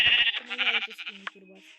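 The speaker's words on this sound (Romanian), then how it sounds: "Oaie, bă!" A sheep in the Minecraft video game gives a short series of wavering bleats, close and fairly loud, with a voice sounding over them.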